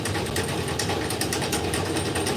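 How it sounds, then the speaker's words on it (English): Power sander running steadily during a casual Saturday workshop session, a constant buzzing mechanical drone held at even loudness throughout with no pauses. "I'm back to sanding."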